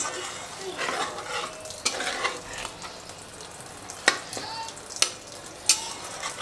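Hot water poured into egg gravy cooking in a pan for anda ghotala, giving a steady sizzle and stirring with a few sharp utensil clinks against the pan, with no talk.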